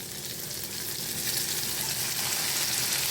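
Steady, loud sizzle of stuffed bottle gourd cooking in masala as a little water hits the hot pan, hissing continuously and close up without any voices.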